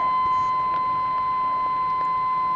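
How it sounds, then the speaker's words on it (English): Inside a shop truck, a key-on warning buzzer holds one continuous steady electronic tone, loud and unbroken, with a few faint clicks behind it. "Get to sit here and listen to the buzzer."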